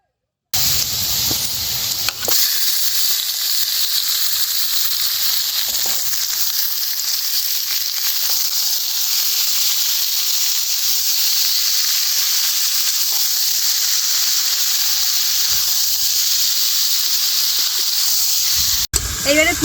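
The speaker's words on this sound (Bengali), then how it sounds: "পেঁয়াজ আর রসুনটা খুব ভালো মতো ভেজে নিয়েছি। এইবারে দিয়ে দেবো মাংস।" Chicken pieces sizzling in a pan with fried onion and garlic for a black pepper chicken curry, a loud steady hiss that holds almost unbroken for the whole stretch.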